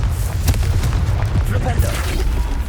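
Confringo fire spell blasting in Hogwarts Legacy, a continuous rumbling boom with dense low-end energy and crackling bursts throughout, loud and close with no talk.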